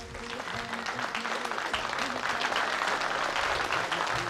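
Audience at a live song performance claps steadily in sustained applause, dense and continuous, growing slightly louder toward the end.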